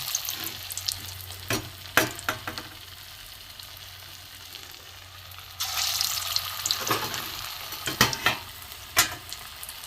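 Small prawn balls of boiled potato, gram flour, chopped onion, chilli and garlic frying in oil: a continuous sizzle with scattered sharp clicks, swelling louder about halfway through.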